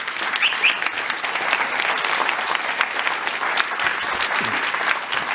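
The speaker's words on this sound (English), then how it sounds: "join me for having an, I don't know, applause for the LUMI AI Factory," Sustained audience applause at the LUMI AI Factory launch event, a dense, steady wash of clapping from a crowd that keeps an even level throughout without fading.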